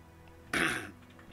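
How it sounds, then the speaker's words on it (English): A single brief throat clearing, fairly close and moderately loud, a short rough burst that fades quickly into quiet room tone, with no talking. "Had to clear my throat."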